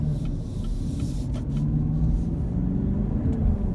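A 2017 Chevrolet Camaro 2SS with a 6.2-litre V8 on the road, a steady low engine rumble with a faint rise in revs heard from inside the cabin, with no talking.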